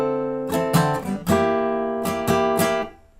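Acoustic guitar moving between two chord shapes from a song part, played on three strings only, with several plucked chord attacks that ring out, then a pause and three more strums, played close and alone.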